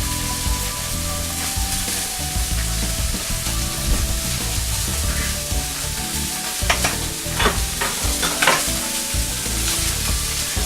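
Pasta frying in a pan, a steady close sizzle with stirring scrapes and clinks of a utensil against the pan rising in the second half; no talk.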